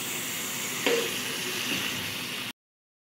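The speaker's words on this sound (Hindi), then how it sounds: "तो थोड़ा सा फ्राई करेंगे फिर इसके बाद का प्रोसेस हम आपको दिखाएंगे।" Chicken pieces frying in oil for biryani, a steady close sizzle and hiss with a brief louder spatter near the start, cutting off abruptly into silence at the end.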